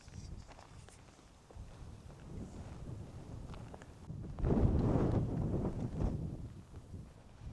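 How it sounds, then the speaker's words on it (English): Wind gusts buffet the microphone outdoors during a bow hunt in rough, rumbling bursts, swelling stronger midway, with faint rustling underneath and no voices. "It's really windy."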